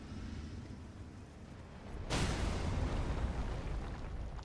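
An enemy hurls whole pillars in Elden Ring: Shadow of the Erdtree, and a single loud, sudden crashing impact bursts in midway, then a heavy rumbling roar sustains after it.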